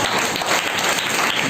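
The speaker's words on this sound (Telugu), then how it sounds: "చప్పట్లు కూడా" Audience applause at a Christian sermon, dense steady clapping from many hands filling the whole moment at close, loud level with no voices over it.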